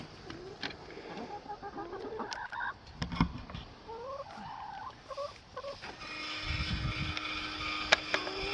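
Chickens let out into a farm paddock, giving scattered clucks and short calls close by over a steady outdoor background, with a few soft knocks and rustles among them.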